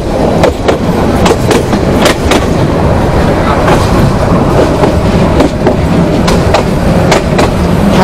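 A train on the Rangpur line passes through Kaunia railway station with a loud, continuous rumble and rhythmic clickety-clack over the rail joints. The noise is close and dense for the whole stretch.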